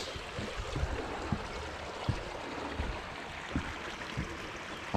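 Water flows steadily in a small neighborhood drainage creek, a continuous close rushing and trickling wash with a few soft splashes and no voices.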